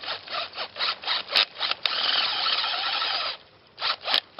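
A 6-inch trap bed auger bores into dirt at slow speed, a close, gritty whirring grind that comes in short pulses, holds steady for a couple of seconds, then pulses again.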